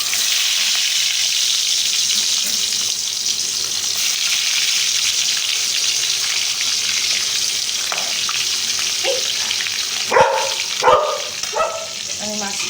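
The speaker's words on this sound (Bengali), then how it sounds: "কড়াইয়ে তেল দিয়েছি, এখন মাছটা একটা একটা করে ভেজে নেব।" Jumbo prawns sizzle in hot oil in a wok with a steady, bright frying hiss, then a few louder clinks and stirring sounds near the end.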